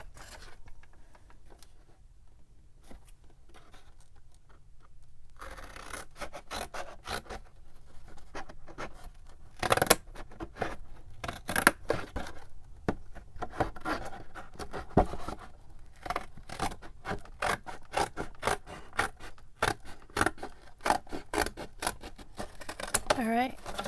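Scissors cut through material for an upcycled junk journal cover, giving a run of close, crisp snips and crunchy clicks after a quiet start, with a voice talking at times.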